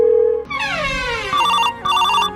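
A mobile phone ringtone plays loudly and close, opening with a sweeping electronic tone followed by two repeated melodic beeping phrases, with no talking.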